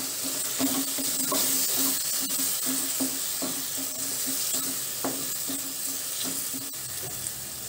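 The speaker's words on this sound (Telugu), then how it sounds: "చక్కగా వేగిందండి ఇప్పుడు ఇందులోనే 1/4 టేబుల్ స్పూన్ పసుపు యాడ్ చేసుకుందామండి" Spices with turmeric fry in a pan for Rayalaseema-style uggani, a soft continuous sizzle with regular, rhythmic stirring taps of a spoon against the pan, close and fairly quiet, with no voices.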